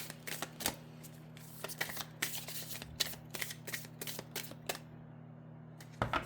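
A deck of oracle cards is shuffled repeatedly in rapid clattering bursts, close by, pausing briefly before a final riffle.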